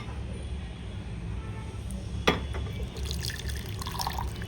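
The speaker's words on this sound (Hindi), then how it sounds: "तो देखो मैं पहले पानी डालती हूँ इसमें" Water trickles and splashes steadily into a vessel in a home kitchen while a paneer and vegetable pulao is being prepared, with a brief clink partway through.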